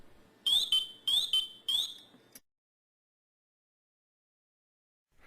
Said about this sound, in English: Listen for pass pre-alarm tones.